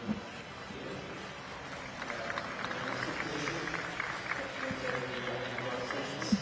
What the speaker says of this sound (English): Getting warm encouragement from the crowd at the side of the track here.